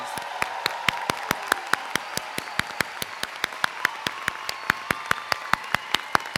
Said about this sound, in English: I would like to give the graduates a big round of applause.